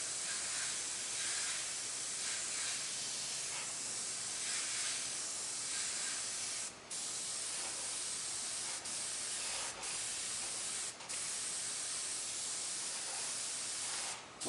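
A spray gun lays white paint over the gray center of a ripped sheet metal repair panel, a steady close hiss running unbroken with a few brief gaps where the trigger is released.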